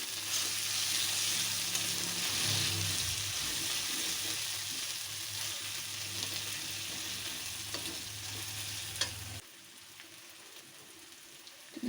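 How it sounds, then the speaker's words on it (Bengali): Powdered spices for a mutton curry fry in hot oil, giving a loud, dense sizzle with stirring scrapes that suddenly drops to a faint hiss near the end. "এতে এবার আমি গুঁড়ো মশলাগুলো অ্যাড করে দেবো"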